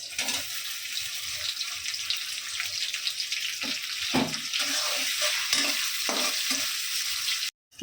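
Prawns frying in a pan with bottle gourd leaves, a steady close sizzle with occasional stirring scrapes and clatters, no voices, cutting off briefly near the end.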